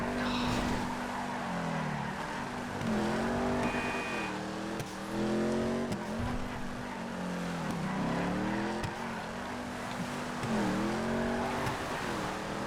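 Drag race car engines, including Sabre turbos, in a GTA FiveM multiplayer race: loud, close engines repeatedly revving up and dropping through gear shifts in a rhythmic rise-and-fall pattern, with faint tire squeal mixed in.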